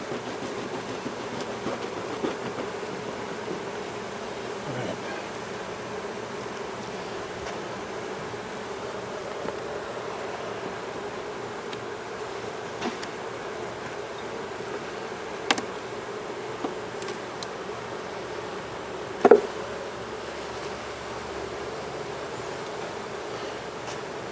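Honeybees hum steadily around a beehive comb, a continuous soft buzz close by with a few brief louder bumps and clicks, no talking.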